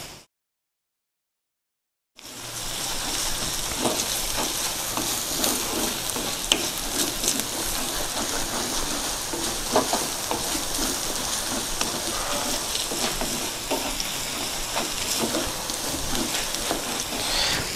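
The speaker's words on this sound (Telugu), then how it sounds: "మసాలాలు కూడా బాగా వేగాయి" Coriander powder and garam masala sizzle and fry in hot oil while being stirred for a Telangana-style lady fish curry, a steady dense crackle that starts after a short silence and continues evenly, close and moderately loud.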